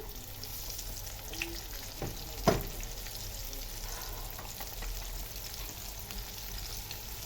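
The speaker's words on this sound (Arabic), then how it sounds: "معايا طاسة وفيها زيت، لازم يسخن قوي عشان ايه السمك بتاعك يقرمش. انزل بالسمك" Fish frying in very hot oil in a pan, giving a continuous close crackle and sizzle with a soft stir or bump partway through, no voices.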